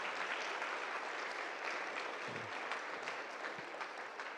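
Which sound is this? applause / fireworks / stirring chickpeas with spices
applause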